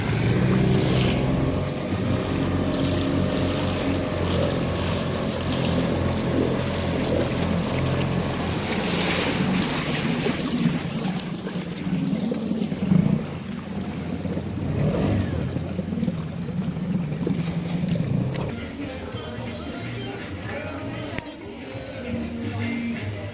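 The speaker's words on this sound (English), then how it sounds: "We took the dinghy ashore for some provisioning." A small dinghy motors ashore across the sea toward a dinghy dock, its outboard droning steadily close by under heavy wind noise and the wash of waves, with a few faint voices.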